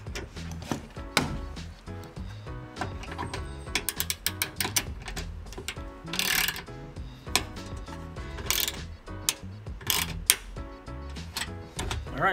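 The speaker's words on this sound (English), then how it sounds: "I just had to use a little socket wrench just to get more leverage." Socket wrench ratcheting as it tightens a rivet nut while fitting fender shrouds on a 2015-2020 Subaru WRX STI, dense rapid clicking in close, repeated bursts with no talk.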